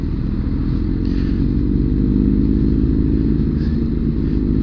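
A powerful motorcycle engine roars loud and steady at speed, a dense low rumble that holds without clear rises or drops, heard from close on the bike with no speech.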